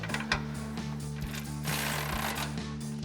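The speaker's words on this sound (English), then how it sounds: "Now we're going to come underneath and tighten down our nuts with our 21mm socket on our ratchet." A ratchet with a 21mm socket tightens the front bumper nuts on a 2015-2017 Ford F-150. It makes close, repeated mechanical clicking in regular bursts that run steadily throughout, with a brief louder knock near the end.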